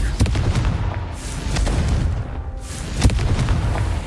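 Confringo explosive spell blasts in the video game Hogwarts Legacy, heavy booming impacts recurring over a loud, rumbling combat backdrop, with sharp cracks standing out at intervals.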